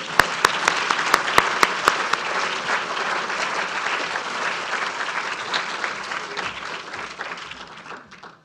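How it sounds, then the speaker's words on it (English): An audience at an arts and humanities awards evening applauds Sir Peter Bazalgette: a few loud individual claps at first, then dense sustained clapping from a large room that tapers off over eight seconds. "We may now applaud Sir Peter Bazalgette."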